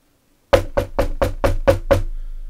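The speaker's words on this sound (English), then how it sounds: "Knocking sounds are generated as one raps on the door." Seven firm, evenly spaced raps on a door, close and loud, starting abruptly after silence and ringing briefly between knocks.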